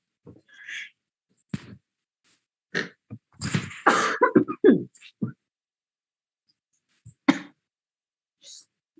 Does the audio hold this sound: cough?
yes